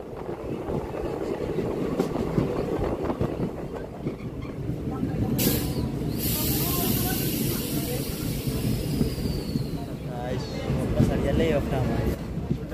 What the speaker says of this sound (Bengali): সাবরুম থেকে রেল এখন আগরতলা রেল স্টেশনে প্রবেশ করছে